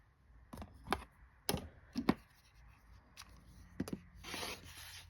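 Cutting apart a sewn quilt block of fabric, heard as several sharp, close snips and rustles spaced irregularly, followed by a softer scraping stretch.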